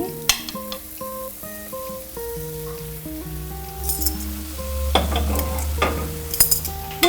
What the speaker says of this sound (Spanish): Y ahora vamos a agregar de vuelta las presas de pollo.